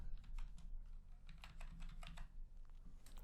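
Loud computer keyboard typing in quick, uneven bursts of clacking keys, close up with brief pauses and no talking.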